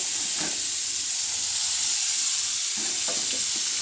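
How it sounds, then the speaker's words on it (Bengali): Chopped onion drops into very hot oil in a scorching kadai and sizzles loudly and continuously, a dense hiss with a few stirring scrapes near the start and the end, and no talking. "তো পেঁয়াজ কুচিটা ছেড়ে দিচ্ছি, তেল প্রচুর গরম হয়ে গেছে।"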